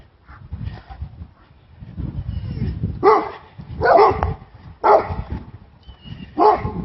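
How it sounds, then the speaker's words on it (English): Several neighborhood dogs bark two doors down, heard from a distance as a series of sharp barks in bursts roughly every second, over a low background rumble. "There's your dogs that are barking. 2 doors down."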